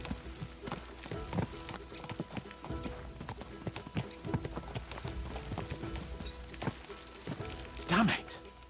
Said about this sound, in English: Let's really spur these horses on, eh?